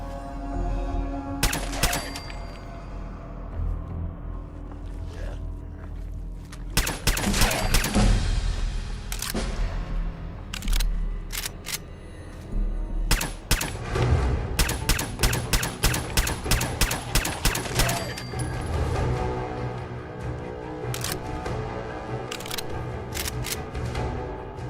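Fallout 4 combat with scattered gunshots and bursts of automatic fire, loud and irregular, clustering into rapid volleys midway through, over steady game background sound.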